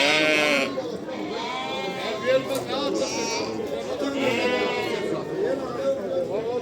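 Sheep and lambs at the Ganja sheep market in Azerbaijan bleat repeatedly, loud and close, several overlapping calls in a crowded pen, with people chattering throughout.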